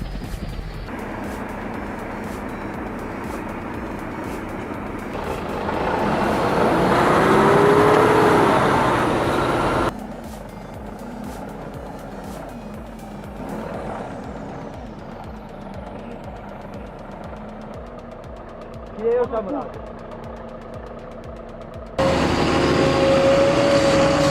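A logging truck built on a road chassis, overloaded with logs and straining under eight tons, its engine droning steadily with loud surges and shifts, a sustained heavy motor sound with no talk over it.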